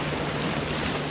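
Steady wind rush and choppy waves slapping around a sailboat moving slowly in about ten knots of breeze toward a remote Tuamotus anchorage, a loud, continuous broadband roar with no voices.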